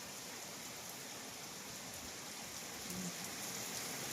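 Steady rain falls and spatters on surfaces outdoors, a dense, even hiss that keeps up without a break from start to finish, with no voices.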